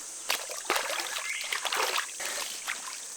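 Water splashes and trickles as a freshly caught mid-60s barramundi, taken on a Jackal mullet-imitation lure, is rinsed off in a small wild creek, with several quick close splashes over steady running water.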